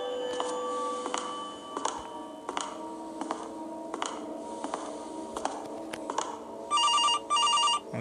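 A telephone rings in the horror video game Case Animatronics, with repeated electronic ring bursts near the end over a quiet game background of scattered ticks and clicks.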